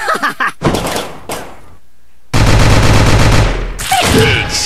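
Loud, sustained machine gun fire rattles in a continuous burst in the shooter game Candy Mountain Massacre, preceded by a few shorter gunshots and a brief gap.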